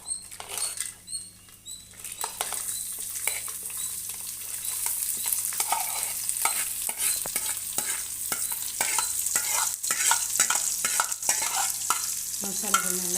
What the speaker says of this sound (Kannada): ಇವಾಗ ಮಸಾಲೆಗಳನ್ನೆಲ್ಲ ಎಣ್ಣೆಲಿ ಫ್ರೈ ಮಾಡ್ಕೊಂಬಿಡೋಣ